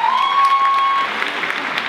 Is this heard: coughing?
no